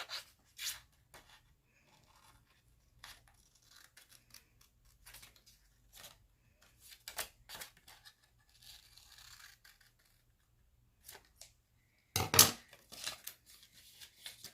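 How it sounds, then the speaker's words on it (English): Scissors snip out paper petals from a folded paper flower for a craft strawberry pouch, a few quiet separate cuts and rustles spread across the stretch with one sharper, louder snip near the end. "Now, we need to cut out 2 of these petals."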